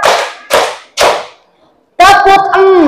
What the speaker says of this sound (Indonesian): Tepuk 3. Rok.